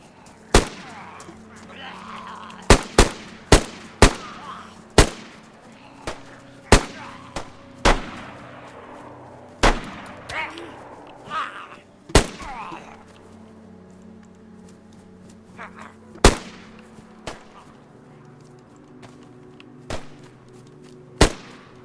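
Gunfire in a zombie video game: a dozen or so sharp single shots at irregular intervals, loud and close, with players talking over a low background hum.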